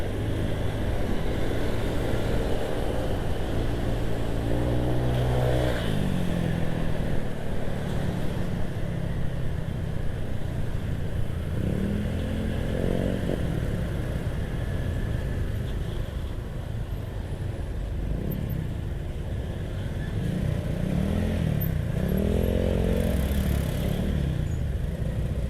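Busy road traffic on a scooter ride through Jakarta: a continuous dense roar of engines and motorcycles passing nearby, with rising and falling engine sweeps cutting through the steady rumble, and no talking.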